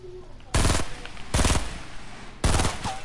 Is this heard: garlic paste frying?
no